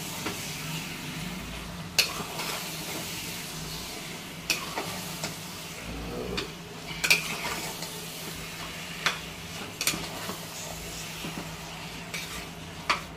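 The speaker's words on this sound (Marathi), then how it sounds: "आणि व्यवस्थित चांगलं परतवायचं आहे ते पूर्ण मसाला मिक्स होईपर्यंत." Chicken masala is stir-fried in a pan, with a soft steady sizzle under repeated sharp scrapes and clinks of a spatula against the pan at irregular intervals.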